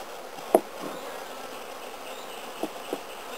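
Honey bees buzzing around an open Langstroth hive at Barr Wood Apiary, a steady soft outdoor hum with a few brief closer knocks or bee passes.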